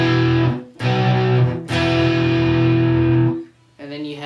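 Distorted electric guitar plays the post-verse of a song, with three-finger chord shapes slid down a string: loud sustained chords in three phrases separated by short breaks, then a quieter tail.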